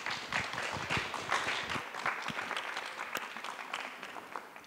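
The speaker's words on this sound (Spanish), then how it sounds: "demos un fuerte aplauso para iniciar esta presentación." An audience claps loudly at the opening of an economics book presentation, dense applause holding steady for several seconds before thinning slightly toward the end.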